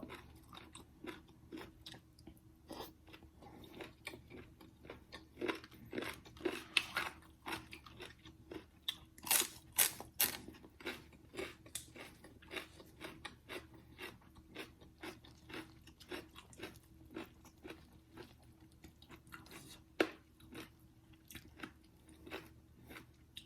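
Crisp, crunchy chewing of a spicy Thai yum salad repeats in irregular bursts close to the mic, with a faint low hum underneath and no talking.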